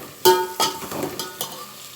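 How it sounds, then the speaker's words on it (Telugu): Fresh mint and coriander leaves fry in a hot pan while a chicken dum biryani base is prepared, giving a steady close sizzle broken by several louder stirring scrapes at irregular intervals. "ఇవి వేగుతున్నాయి కదా"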